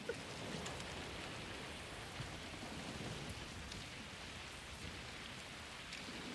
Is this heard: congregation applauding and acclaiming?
no